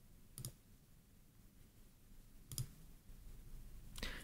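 Three sharp, isolated clicks of a computer mouse, spaced about two seconds apart, over a low, steady room hum, with no one speaking.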